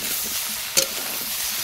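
Young jackfruit sizzles in oil with spices in a wok, a steady broadband frying hiss throughout with one sharp clatter or spatter midway, close and moderately loud with no talking.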